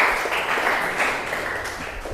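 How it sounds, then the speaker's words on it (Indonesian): Schoolchildren clap together in a classroom for a steady couple of seconds, moderately loud, with voices faintly mixed into the applause. "Tepuk tangan untuk kita semua."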